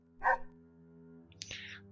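A dog in the video game Gothic: The Chronicles of Myrtana – Archolos gives a single short bark, then a softer whimpering yip follows over a low steady game hum.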